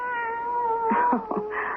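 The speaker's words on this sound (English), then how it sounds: "Poor, scrawny, hungry-looking kitten." A poor, scrawny, hungry-looking kitten mews in a thin, high cry, with several short plaintive meows in quick succession following a long drawn-out one, close and fairly clear.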